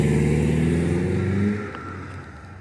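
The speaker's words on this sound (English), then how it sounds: "see cars be just zooming" Cars speed past on a neighborhood street on a Friday night, a loud close engine roar that swells and then fades as a vehicle moves away, with no voices.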